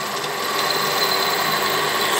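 A pillar-type drilling machine drills a hole through metal, a steady loud motor whine with grinding texture, constant and close, without talk.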